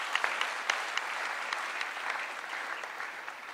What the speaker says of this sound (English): So a big clap for all of you who are young and beautiful,